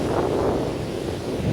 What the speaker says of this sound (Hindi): इस साइड अभी भी इतना पानी निकल रहा है